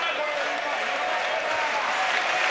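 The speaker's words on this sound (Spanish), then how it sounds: "Lo ve mal el público, por eso comienza a aplaudir y a alentar al argentino" A crowd at a mixed martial arts fight between an Argentine and a Brazilian fighter claps in a dense, steady patter throughout, with a voice talking faintly underneath.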